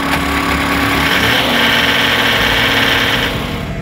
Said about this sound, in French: ce n'est qu'en fin d'après-midi que les machinistes parviennent à faire ronronner les moteurs.